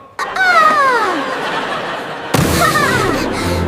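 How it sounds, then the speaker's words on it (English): A balloon blown up until it is too big bursts with one sudden sharp pop partway through, set among squeaky, swooping voice-like sounds before and after. "The balloon popped."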